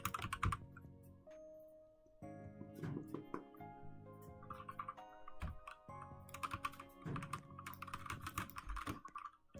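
Computer keyboard typing in quick irregular bursts, close and fairly quiet, with a soft musical tone running underneath.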